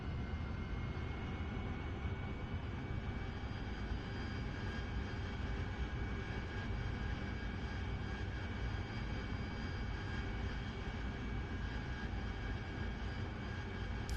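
An AV-8B Harrier jet engine idling in the DCS flight simulator, a steady, dense whine and roar with sustained tonal hum that holds evenly and loud throughout, with no talk.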